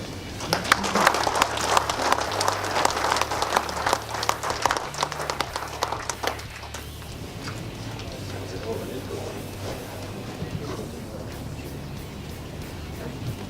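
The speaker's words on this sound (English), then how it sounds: "So let's get a big round of applause for Eric Olson." An audience at a walleye fishing club meeting claps in a steady burst of applause that fades after about six seconds, leaving quiet room murmur.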